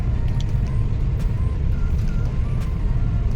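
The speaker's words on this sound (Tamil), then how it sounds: "இந்த டிராஃபிக் நம்மளுக்கு தேவையா?" Dense road traffic in a jam, a steady broadband rumble of car and truck engines with occasional brake hiss, continuous and fairly loud without speech.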